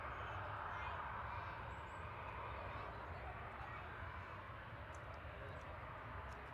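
A Jet2 Boeing 737-800 departs Manchester Airport with a steady, distant engine roar that holds evenly throughout, a voice talking faintly over it.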